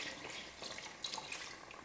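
About one and a half cups of water used to rinse a mixer jar are poured into a pot of mutton curry, a faint, brief trickling pour.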